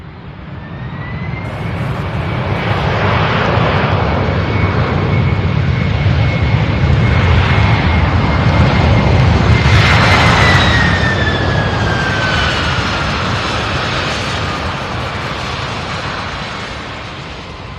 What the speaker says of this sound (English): Beautiful landing there. This one here from Chicago.